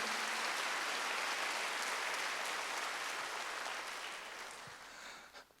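A church congregation at a Wednesday worship service claps together in a full, dense burst that holds steady for a few seconds, then gradually fades into scattered final claps.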